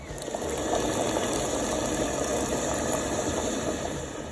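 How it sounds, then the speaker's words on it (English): Water boiling in a lidded pot under a steamer of dumplings, a steady close bubbling and rolling hiss that continues evenly throughout with no voices. "On a pot. Boiling water."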